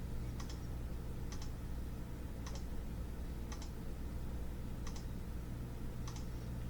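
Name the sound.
computer mouse clicks while editing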